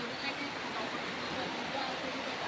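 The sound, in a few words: floodwater around a flooded house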